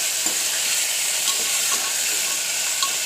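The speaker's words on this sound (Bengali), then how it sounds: "আলুগুলো আগে ভালো করে ছোটো ছোটো করে কেটে ধুয়ে তেলের সাথে দিয়ে দিলাম, একটু ভাজা ভাজা করবো" Small diced potatoes frying in oil give a steady, dense sizzle and hiss that fills the whole stretch at an even level, with faint crackles scattered through it and no voices.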